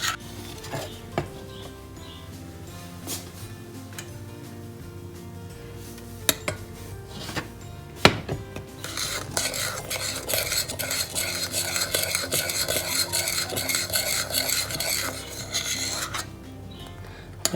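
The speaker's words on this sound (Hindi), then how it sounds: "साथ हिलाना भी पड़ेगा।" A spoon stirs milk simmering in a pot with almonds, poppy seeds, cardamom and makhana, giving steady scraping and rubbing strokes against the metal with occasional louder clinks, continuous and close with no talking.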